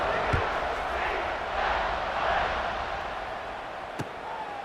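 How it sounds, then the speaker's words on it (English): A football stadium crowd buzzes after a score, a broad, steady roar of many distant voices with a couple of sharp thuds breaking through. "this crowd is buzzing after that last score"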